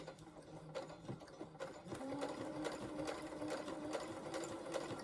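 A sewing machine stitching a seam back and forth on a Christmas cone craft project, heard as a rapid, continuous mechanical whirring and clatter that speeds up partway through, close and steady.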